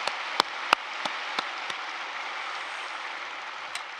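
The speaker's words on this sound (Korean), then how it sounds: "뜨거운 박수해 주시기를 바랍니다." A congregation applauding at an Easter union worship service in a large church, where the clapping forms a dense, even wash of sound. A few sharper claps stand out early, and the applause holds steady at a moderate distance without voices.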